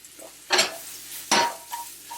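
Mushrooms fry in butter and oil in a pan, a low background sizzle with two short bursts of louder hissing and scraping as they are tossed and stirred.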